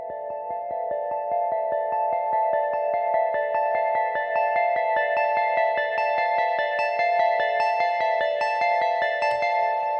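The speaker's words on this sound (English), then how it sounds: "So the arp is based off this preset called Crumble Keys. So it's a really nice key sound," Synth arpeggio built on the Crumble Keys preset in SynthMaster One, a bright keyed tone repeating in a steady rapid pulse of evenly spaced notes over a sustained chordal bed, loud and unaccompanied throughout.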